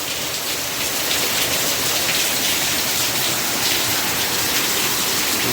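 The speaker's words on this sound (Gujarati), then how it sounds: "વગર ચોમાસે વરસાદ સમજો" Heavy unseasonal summer rain pours down steadily in Surendranagar, a dense, loud hiss of drops hitting surfaces and a water-covered road, with no letup.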